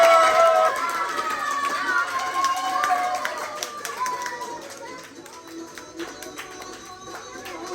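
Children at a children's home Eid Milan party clap and cheer in a lively room, scattered claps and taps mixing with excited voices and chatter, fairly close, settling somewhat toward the end.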